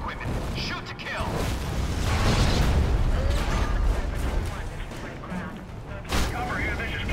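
Gunfire crackles through a chaotic combat scene in the Prototype 2 video game, mixed with rumbling explosions and heavy background noise, with one sharp burst near the end.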